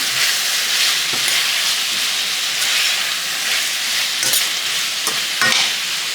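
Food for steamed fish, seasoned with pink Himalayan salt, is tossed around in a pot, giving a continuous sizzling hiss broken by a few sharp scrapes and clinks, with no talking.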